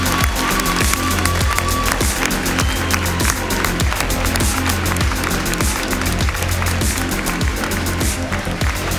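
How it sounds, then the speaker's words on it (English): Crowd applause for the ten finalists of a chocolate patisserie competition, steady loud clapping over music with a regular thumping beat throughout. "Please give them a huge big round of applause."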